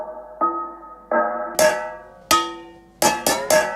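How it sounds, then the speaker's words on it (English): Metallic pans struck like a steel drum, treated with reverb and a filter, ringing out in separate resonant hits: a few softer tones, then bright clangs that quicken into three closely spaced strikes, each with a decaying tail. "Just literally me banging some like pans and stuff."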